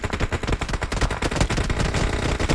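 Rapid automatic gunfire from the mobile battle-royale game PUBG Mobile, loud dense bursts of shots rattling continuously and close throughout.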